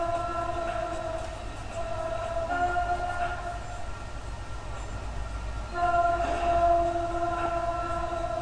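A train speeds along the tracks in Sunnyvale, California, producing a continuous heavy rumble threaded with whining metallic tones that swell louder partway through.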